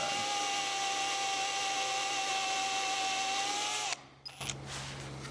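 A power drill with a small bit whines steadily, close and loud, boring through scrap wood for a woodturned mouse's eyes, then stops abruptly, followed by a few light clunks and a low hum.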